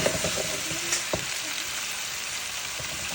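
Chicken frying gently over low heat in a pan for tandoori, making a constant crackling sizzle with a few quick stirring taps early on.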